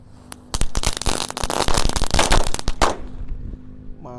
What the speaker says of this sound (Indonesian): Lanjut yang kita nyalakan di sini ada mercon telur dinotor yang jumbo-jumbo guys.